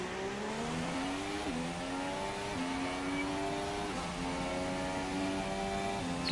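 Race car engines roar down the main straight at the Malaysia GP in a racing video game, a steady high revving whine that climbs through the gears with audible shift drops, fairly close and without talk.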